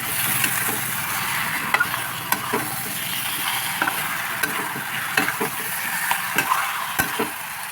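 Two kilograms of chicken frying in a pan for curry, giving a continuous close sizzle broken by sharp clinks and scrapes of a stirring utensil.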